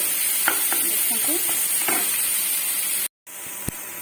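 Onion, capsicum and cabbage frying in a pan, a steady close sizzle with repeated scraping stirs and a short break near the end.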